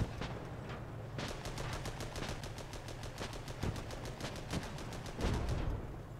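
Rapid machine gun bursts from the game Armoured Battle Crew rattle in fast, even volleys, pausing briefly between strings of shots, fairly loud and alone without speech.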